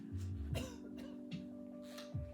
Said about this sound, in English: there's some coughing already, huh?